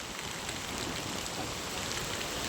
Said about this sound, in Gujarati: વરસાદ પણ આવી રહ્યો છે